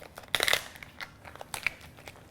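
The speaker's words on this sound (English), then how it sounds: "Knife goes in, split the shell in half" Crunchy cracking and crackling of a knife splitting a lobster shell, in a burst of sharp snaps followed by a few scattered crunches, close up.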